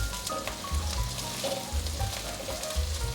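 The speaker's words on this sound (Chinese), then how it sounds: "炒到姜片有点弯曲了，这时候放入香菇，把香菇炒香" Shiitake mushrooms stir-frying in hot oil scented with ginger slices, a close, steady sizzle with soft scraping stirs.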